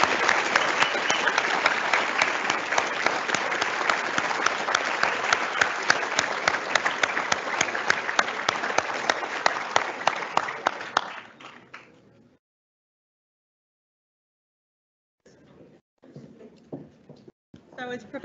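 Audience at the close of a medical school white coat ceremony breaking into sustained, loud applause for about eleven seconds, fading out, then a short silence before scattered later claps and sounds resume.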